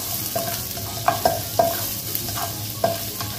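Garlic sizzles steadily as it sautés in a pan, with several sharp clinks and scrapes of a utensil stirring against the metal, close up and with no one speaking.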